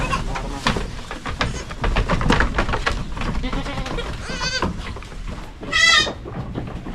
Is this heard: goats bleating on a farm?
yes